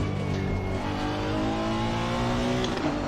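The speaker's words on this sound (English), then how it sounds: "Feels a bit like a turbo engine to me" A 2018 Honda NSX race car's engine accelerates hard at Spa in the ACC racing game, a loud continuous rising drone with layered harmonics building steadily throughout.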